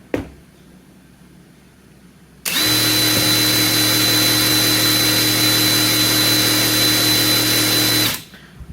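A DCK KDPB488 cordless impact wrench spins freely at its high speed setting, a loud steady motor whine that starts abruptly, runs evenly for about six seconds up close, then stops.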